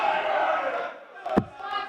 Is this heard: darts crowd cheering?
yes